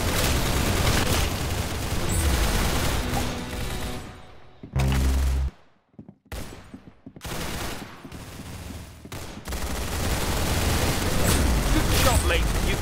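Rapid bursts of automatic gunfire and booming shots from the online shooter game Arsenal, loud and dense, breaking off into short silent gaps midway before resuming, with voices talking over the action.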